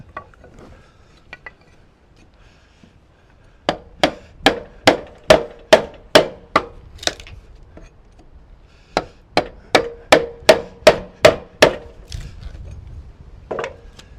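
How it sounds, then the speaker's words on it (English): Chisel struck with a mallet while cutting a dovetail housing into an oak floor beam: two bursts of about eight evenly spaced, sharp wooden knocks, close and loud, with a short pause between the runs. "Chiseling, Jay."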